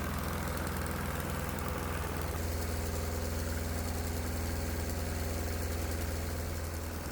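A diesel engine idles steadily on a garbage fuel mixture under light load, a loud, continuous low throb with a mechanical knock, close and unbroken, with no talk.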